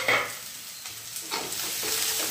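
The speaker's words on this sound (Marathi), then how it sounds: "याच्यामध्येच आता हे वाटाणे टाकणे मी।" Green peas tossed into a pan of sautéed onions and coriander, a sizzle that flares up loudly at first, then settles into a softer crackle with stirring scrapes, close and without talk.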